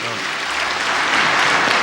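Steady, dense applause fills a parliament hall, a broad wash of many hands clapping that holds at a constant loudness throughout with no talk over it.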